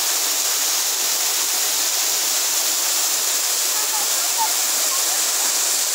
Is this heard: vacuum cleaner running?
no